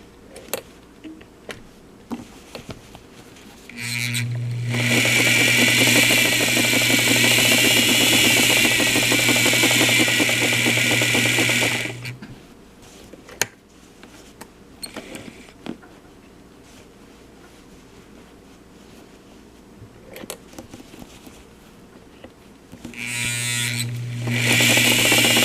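A Singer Model 237 sewing machine stitches a patch onto a pair of jeans. Two close, steady motor runs with a rapid needle buzz are heard, one long stretch of about eight seconds and a shorter one at the end, separated by quiet handling clicks.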